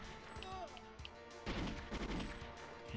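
Gunfire in the N64 shooter GoldenEye, a run of rapid crashing shots and thuds that swells in the second half, close and fairly loud.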